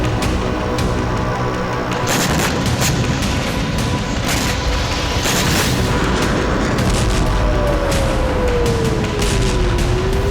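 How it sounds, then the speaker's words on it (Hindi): Explosions from Israeli bombardment on the outskirts of Beirut, heavy booms and rumbling blasts over a dense, continuous roar, with repeated sharp impacts and a falling whine late on, loud and sustained. "बेरूत के बाहरी इलाकों पर इजराइल की बमबारी लगातार जारी है।"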